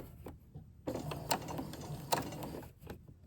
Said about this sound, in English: So now I'm going to stitch forward a couple stitches.